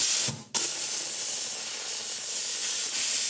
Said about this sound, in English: We're going to steam the ring.